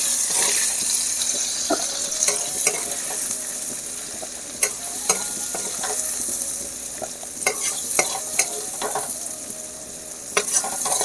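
Pointed gourd slices being lifted out of hot oil in a home kitchen: steady frying sizzle with scattered sharp clinks and scrapes of a utensil against the pan, close and continuous, with no voices.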